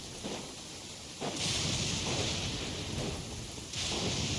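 Steady rain hisses in the game Genshin Impact, a dense continuous wash that swells louder partway through and again near the end, with no voices.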